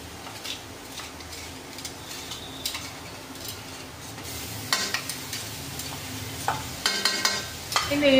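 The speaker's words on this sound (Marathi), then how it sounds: "ब्राऊन झालाय कांदा थोडा थोडा, तर ह्याच्यात मी मिरची टाकते." Chillies, roasted peanuts and curry leaves frying with browned onion in a pan for a green potato bhaji: a low sizzle broken by repeated spatula scrapes and taps, growing louder and busier toward the end, with no speech.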